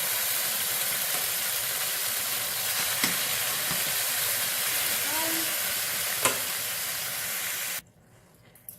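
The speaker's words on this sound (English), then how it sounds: "steaks to the hot pan. And what we want to do is get a little bit of color on that." Cubed steaks sear in a hot pan with a loud, dense, continuous hiss and sizzle, marked by a couple of faint clicks, before cutting off near the end.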